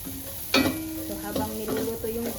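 Carrots stir-fry in a pan for an egg tofu and vegetable dish, a soft sizzle under a sharp utensil clack followed by a few lighter scrapes and stirs, close by with no speech.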